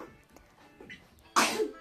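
A single sharp human sneeze bursts out near the end, loud and close after a few quiet moments with faint background murmur.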